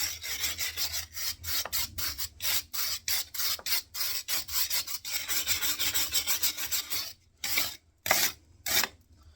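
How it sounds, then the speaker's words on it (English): A tool scrapes big flaky bits off a wood burning stove in quick, close, rhythmic rasping strokes, about twenty in a row, then a few slower strokes after a short pause. "Just scrape as much off as you can, especially these big flaky bits here"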